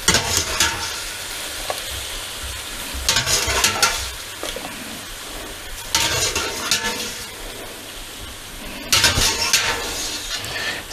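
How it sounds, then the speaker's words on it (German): Cooked al dente pasta tossed and stirred in a frying pan with sauce, giving bursts of wet scraping, stirring and sizzling at regular intervals, close and fairly loud with no talk. "Holen wir wie immer eine Minute früher raus und geben die jetzt in unsere Pfanne rein."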